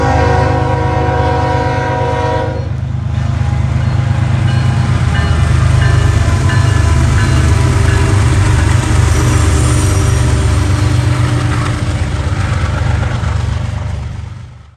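CSX manifest freight M364, led by two GE Evolution locomotives, passes close and loud: a sustained horn blast at the start gives way to a heavy, continuous rumble and wheel clatter that fades only at the end.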